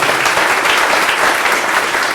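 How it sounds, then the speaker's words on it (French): Steady, dense applause from an audience at a school short-story contest prize-giving, filling the whole moment evenly with no voices over it. "Ça mérite encore une fois de l'applaudir"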